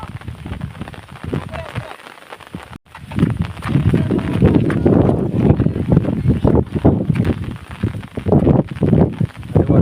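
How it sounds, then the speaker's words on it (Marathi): Strong wind buffets an umbrella in a rainy forest near a small waterfall, a continuous loud rushing roar with gusty surges throughout, a brief dip near the start. "त्याला वारा जाम लावतो छत्री आलबा आलबा आलबा झाल्यासारखी"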